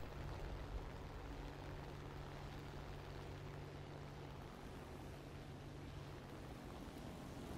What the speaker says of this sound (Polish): Matko, jak się wystraszyłem, dźwięk silnika,